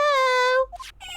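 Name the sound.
cat meowing in Phoenix Wright video game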